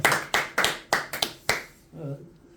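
A small audience clapping in a Korean talk setting, about six sharp, separate claps in an uneven rhythm, close and loud, then fading out as a voice begins speaking.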